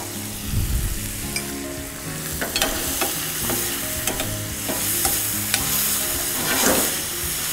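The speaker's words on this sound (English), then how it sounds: "It's cooking in the oil of the anchovies." Anchovies frying in oil in a pan, a loud close sizzle broken by repeated stirring scrapes and clacks of a utensil, with no talking.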